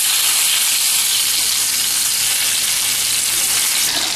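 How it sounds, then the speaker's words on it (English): Meatballs frying in olive oil while being turned over, a loud, dense, continuous sizzle up close with faint shifting as they move in the pan. "we're going to turn our meatballs over and get it around"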